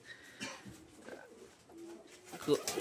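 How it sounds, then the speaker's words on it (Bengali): Pigeons and doves coo softly in a village pigeon house with caged birds, low murmuring calls repeating while a person talks nearby. "এই যে অনেকগুলো কবুতর আছে, আর এর ভেতরে এই যে এই খাঁচাতে এইগুলোতেও আছে।"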